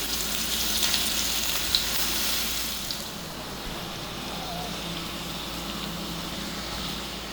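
Prawns fry in a hot pan for a homestyle prawns masala, giving a dense, steady sizzle close up, loudest at first and easing slightly as it goes on, with no talking.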